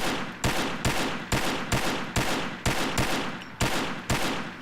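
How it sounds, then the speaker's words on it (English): AUG A3 rifle firing in a video game weapon review, about ten sharp, loud shots in quick, even succession, close and alone. "I'm just going to do a couple tap fires."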